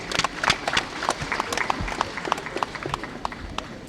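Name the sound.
applause at youth conference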